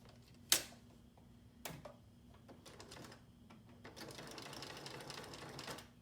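Sewing machine stitching down the sides of a fabric face mask over elastic, heard as a sharp clunk then short bursts of whirring needle runs growing into a steady continuous stitching at close range, with no talk.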